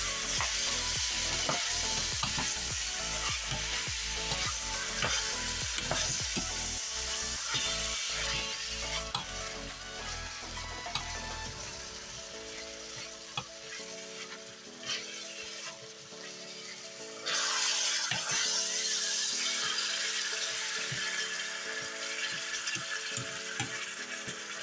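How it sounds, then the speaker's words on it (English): Onions and garlic sizzle steadily in a pan while other food is stirred in, with a continuous frying hiss and scraping stir strokes, louder during the first half, for a Texas-style chili. "So now I'm just gonna kind of mix that in with those onions and garlic."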